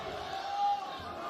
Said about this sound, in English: You hear the Bently crowd here.